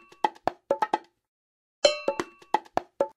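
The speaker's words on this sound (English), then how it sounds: "The bongos and cowbell add percussion to our song." Bongos and cowbell in a Dora the Explorer music game tap out two short bright rhythmic phrases of quick hand-drum hits and metallic clanks, separated by a brief gap, with no voices.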